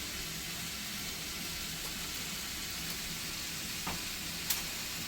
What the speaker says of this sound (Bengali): কড়াইতে দিয়ে দেব সরিষার তেল মাছ ভাজার জন্য